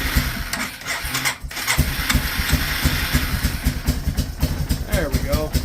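The engine of a Yamaha Bear Tracker ATV, its carburetor just worked on, runs with a rapid, uneven putter and chug close by, while someone talks over it.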